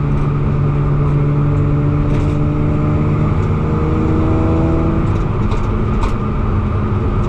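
Subaru Impreza fitted with a swapped EZ30R flat-six engine running steadily, a loud, continuous low engine drone with a slight rise in pitch near the end.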